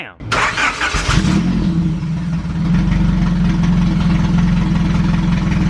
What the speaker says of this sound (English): Do you hear how it's idling now with the IAC on there?